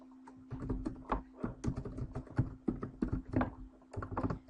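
Close, quick tapping and clacking of keys on a computer keyboard as a forum post title is typed, irregular bursts of keystrokes filling the whole stretch with no talking.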